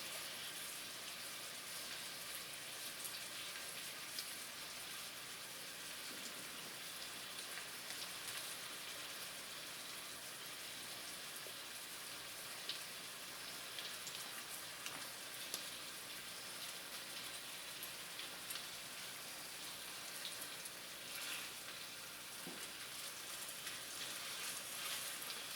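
Salisbury steak patties fry in a pan with a steady, faint, even sizzle and crackle that runs on unbroken, with no talking.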